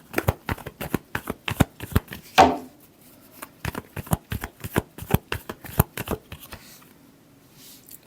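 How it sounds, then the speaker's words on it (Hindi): Tarot cards are shuffled by hand in a quick series of crisp riffling slaps, close and fairly loud, with a brief pause near the end. "Last shuffle."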